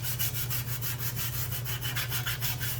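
A Scotch-Brite pad scrubs a rusty car part in quick back-and-forth strokes, a close, steady, rhythmic abrasive rasp over a constant low hum.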